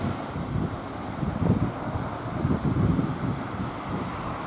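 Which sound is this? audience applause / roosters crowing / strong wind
strong wind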